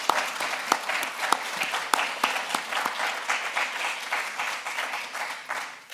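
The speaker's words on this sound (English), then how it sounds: "let's do a round of applause at the very beginning" Audience applause at a university arts event honoring community work, a steady wash of many hands clapping with a few sharper nearby claps standing out, continuing for several seconds with no voices.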